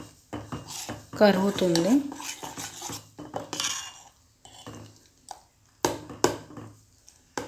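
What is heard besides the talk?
stirring melting butter in pot to make ghee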